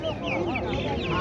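Homegrown chicks one to one and a half months old cheep and chirp in quick, overlapping calls at a busy poultry market in G'ijduvon, close and fairly loud against a murmur of background noise.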